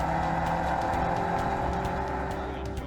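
Porsche 944 race cars battling side by side out of Siberia Corner, engines roaring loud and close in a sustained, dense drone, with faint commentary underneath.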